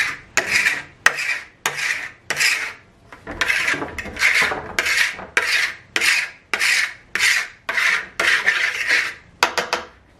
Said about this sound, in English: we're gonna continue to agitate it and to scrape those layers off